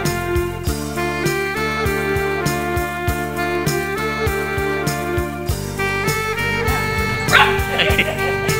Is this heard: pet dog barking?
yes